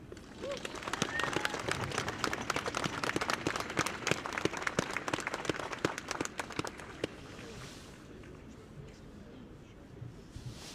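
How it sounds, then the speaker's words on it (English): A crowd applauds warmly for several seconds at a statue unveiling at Belfast City Hall, the clapping dense and sustained before fading into quieter outdoor ambience. "give him another round of applause there"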